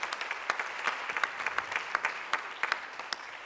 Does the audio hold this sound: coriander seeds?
no